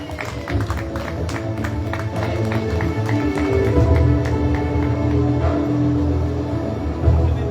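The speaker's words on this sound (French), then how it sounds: "Sous vos applaudissements, s'il vous plaît." An audience at an evening conference applauds, a steady wash of clapping from a crowd that swells slightly toward the middle and carries on without a break.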